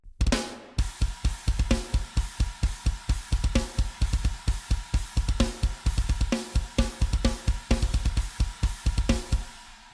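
A programmed metal drum kit, the GGD P5 kit, pounds out fast, heavy kick and snare hits with crashing cymbals in a driving, machine-tight rhythm.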